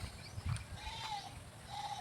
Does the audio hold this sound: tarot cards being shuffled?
no